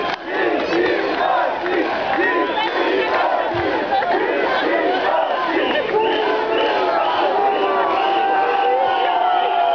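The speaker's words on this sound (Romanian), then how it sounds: "vă rog să aplaudați această decizie a Guvernului" A large crowd at a political rally in Cernavoda roars with sustained cheering and shouting, with possible clapping underneath, a loud, continuous wash of voices that holds steady throughout.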